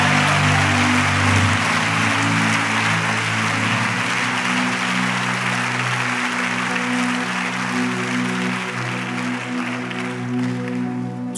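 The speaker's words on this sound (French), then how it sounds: "Acclame fortement la parole." A church congregation applauds loudly and continuously for a long stretch while sustained musical tones play beneath, with no voices above the clapping.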